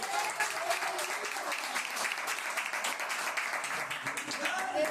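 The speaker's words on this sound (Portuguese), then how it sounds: "Quem pode dar uma linda salva de palmas para o dia dele?" A church congregation applauds warmly during a preaching service, a dense, continuous patter of many hands clapping.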